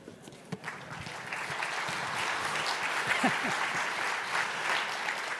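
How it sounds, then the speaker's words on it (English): An audience at a college convocation applauds a dance troupe. The clapping is steady, dense and moderately loud, with faint voices scattered through it. "Can we give DanceWorks one more round of applause under the direction of Professor Rebecca Levy?"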